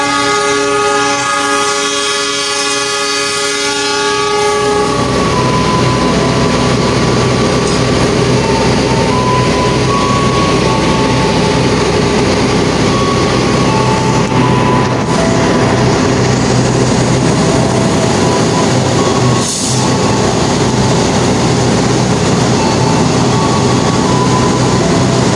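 A Turangga passenger train runs near Tasikmalaya station: a long, sustained horn blast opens, then a loud, continuous rumble and clatter of wheels and carriages rolls past at close range for the rest of the clip.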